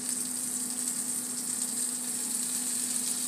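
Gravy sizzles steadily in a pan as flour is added a little at a time, a close, even frying hiss with a faint hum underneath and no talking.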